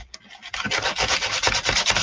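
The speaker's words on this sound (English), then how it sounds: "I'm going to get a different sander. I don't really like those." A hand sander rubs rhythmically against a surface in quick back-and-forth strokes, producing a close, raspy scraping that builds after a brief pause and continues steadily for a couple of seconds without any talking.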